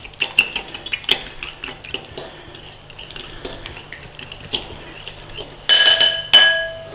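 Beaten egg and onion being mixed in a bowl, seasoned with pepper and salt, for Chinese scrambled eggs with tomatoes: quick clinking and tapping of utensil against the bowl, then two louder, bright ringing clinks near the end.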